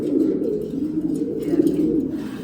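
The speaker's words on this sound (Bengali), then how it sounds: "এগুলো সম্পূর্ণ নর কবুতর আসলে মাদি কবুতরগুলো এখনও এবারে রেস্টে রাখছে" Male pigeons in a rooftop loft cooing close by, a dense overlapping run of low, throaty coos that rolls on continuously with slight swells in loudness.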